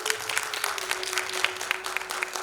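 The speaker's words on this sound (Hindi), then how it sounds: "सभी हमारे प्रतिभाशाली पार्टिसिपेंट्स के लिए एक बार जोरदार तालियां हो जाए" An audience at a grand finale music competition applauds the participants, a lively burst of clapping from a modest crowd with a faint sustained tone underneath.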